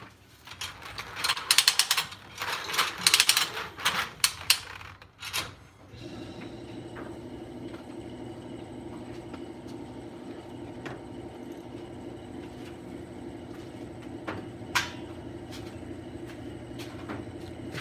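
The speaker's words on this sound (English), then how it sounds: "gonna take a few minutes for that tank to pump up" A workshop air compressor starts after a few seconds of scraping mechanical handling noise, then drones steadily and evenly as its tank pumps up, with a single sharp knock near the end.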